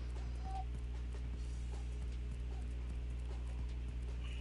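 Horse hooves clip-clop in the Fall Guys video game, a steady run of light, soft hoofbeats over a constant low game hum, with no talking.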